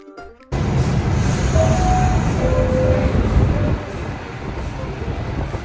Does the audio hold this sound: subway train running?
yes